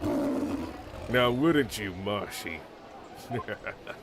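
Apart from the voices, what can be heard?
roaring cry of a warbd bird in the video game Ace Attorney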